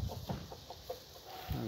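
Bantam rooster and chickens give soft, short clucks in a quick uneven series, close but quiet, with steady background noise.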